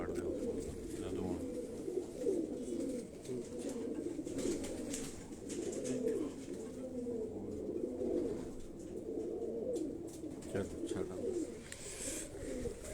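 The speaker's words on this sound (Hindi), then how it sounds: "ये दोस्तों एक और कबूतर" Pigeons of the Sialkoti breed coo in a steady low murmur on a rooftop, a close, continuous burbling with someone talking quietly underneath.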